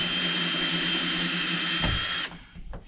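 A power drill whirs steadily as it backs screws out of a panel on a Mooney M20C aircraft during annual maintenance, loud and close, then spins down and stops with a few brief clicks near the end.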